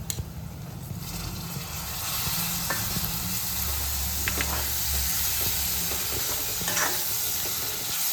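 Tomatoes added to softened onions frying for dhaba-style dal fry, giving a steady close sizzle and hiss with a few stirring scrapes and clinks running throughout.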